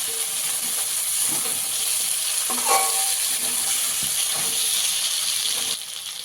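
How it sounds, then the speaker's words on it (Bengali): Potatoes and meat fry with spices in a pan as they are stirred, giving a steady loud sizzle with scraping stirs and a few clinks throughout. "আলুগুলো একটু নাড়াচাড়া করে নিয়ে মশলার সাথে যত ভালো কষানো হবে মাংসটা রান্নাটা ততটা সুন্দর হবে"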